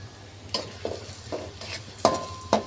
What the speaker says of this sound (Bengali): তেল দিয়ে পেঁয়াজ কুচি দিয়ে দিয়েছি তার সঙ্গে দিয়েছি দুইটা শুকনা ঝাল দুই পিস দারচিনি দুইটা এলাচ আর লবঙ্গ